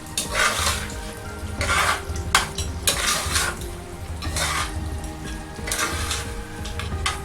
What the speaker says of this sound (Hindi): अब मैं इसके अंदर जो मसाले थे जो मैंने पीसे थे वो डालता हूँ इसमें, और इनको अच्छी तरह जो है मिक्स कर लेता हूँ।